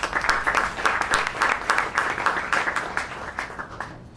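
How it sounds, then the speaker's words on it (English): An audience applauds, a dense patter of many hands clapping steadily before thinning out toward the end. "it deserves another round of applause for the folks at 2degrees"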